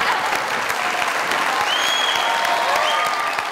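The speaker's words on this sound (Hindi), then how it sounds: "ताली तो बजाओ।" Children clap together in steady, dense applause, a bright continuous patter of many hands with faint voices mixed in.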